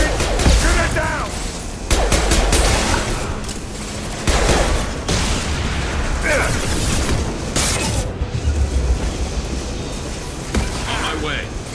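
Gunfire in Mass Effect 2, loud bursts and booming shots repeating through the whole stretch, with voices calling out over the combat.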